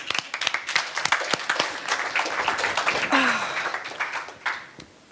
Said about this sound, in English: Let's applaud to this idea.